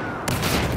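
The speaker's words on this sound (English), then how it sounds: "Real good grenade throw." A grenade detonates in Battlefield 4, a sudden loud burst that cuts in after a brief quiet lead-in and rumbles on through the rest of the moment.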